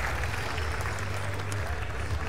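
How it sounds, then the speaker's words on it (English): An audience at a competition ranking announcement cheers and applauds in a dense, continuous wash of clapping and crowd noise, with an announcer's voice under it. "Also in fifth place, please cheer for Rio"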